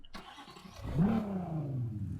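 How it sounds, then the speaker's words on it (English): A car engine in Need for Speed Heat cranks and catches, then revs up in a rising sweep and settles into a throaty idle, close and fairly loud. "So let's start up the engine. Let's rev it up a few times for you guys on smooth."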